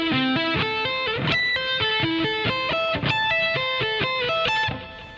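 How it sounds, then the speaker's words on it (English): Three slow sweep arpeggios on a distorted electric guitar, notes cascading up and down in repeated patterns, played alone at steady volume before a fading final note. "So those three together should sound like this."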